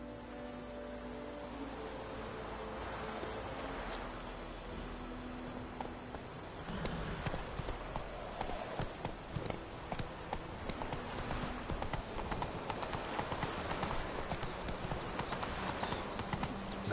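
Roach the horse galloping in The Witcher 3 video game, steady hoof clip-clops quickening into a fast rhythmic beat over an ambient game background, with no speech.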